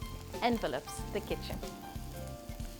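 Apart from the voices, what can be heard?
aromatics sizzling in a pan for corn chowder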